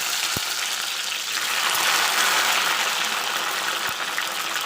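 Brinjal pieces frying in sesame oil in a pan, giving a steady broadband sizzle that swells briefly in the middle, with faint clinks at the start and end and no talking.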